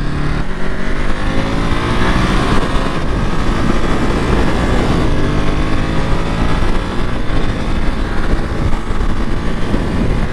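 A Ducati Monster 937 motorcycle engine runs steadily while being ridden, a loud continuous drone with wind noise, holding close and constant the whole time.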